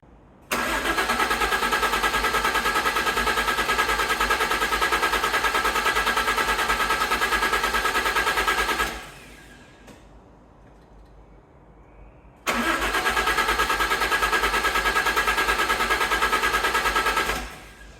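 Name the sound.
Fiat Coupe engine cranking and starting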